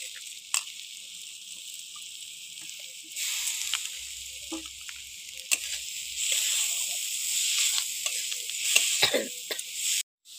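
Fried moong dal sautéed in a pan for tadka roti, a steady bright sizzle with scraping stirs and occasional clicks of the spoon against the pan, rising as the dal is added.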